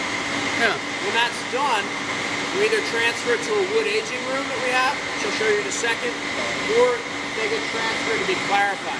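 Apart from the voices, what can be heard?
centrifuges humming in a brewery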